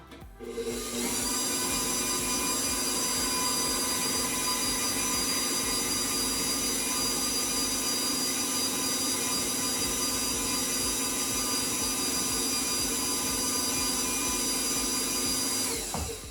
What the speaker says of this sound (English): using my standing mixer, whenever I have to cream butter